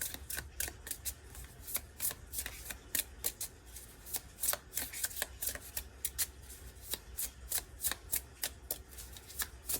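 A tarot card deck is shuffled close by with soft, rapid riffling and slapping bursts repeating throughout, fairly quiet and with no talk.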